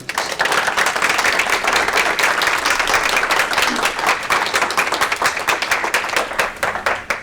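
Sustained audience applause at a youth leadership masterclass, dense and loud, with many hands clapping steadily for about seven seconds as it slowly thins toward the end.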